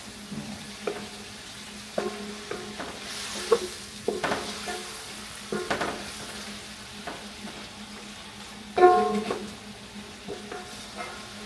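Oil frying and spattering in a pan while cooking kare-kare, a steady soft sizzle broken by intermittent stirring scrapes and clinks, with one louder burst of crackling near the end.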